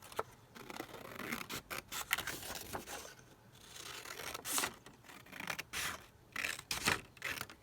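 Paper book page being cut with scissors for a botanical collage, a close series of crisp snips and rustling paper rubs with short pauses, fairly quiet and without voices.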